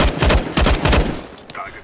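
Rapid bursts of loud video game gunfire crack in quick succession, then thin out and fade.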